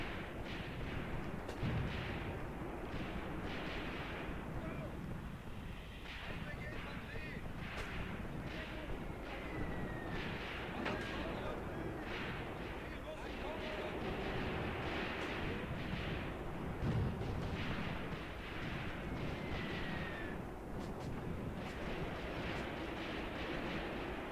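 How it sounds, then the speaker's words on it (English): Battlefield sounds in the WWII game Graviteam Tactics set at Kharkov 1942, with repeated heavy booms of artillery fire and mortar impacts over a constant loud rumble, some blasts near and others distant. "That was a 5 cm mortar impact, so there's more troops here."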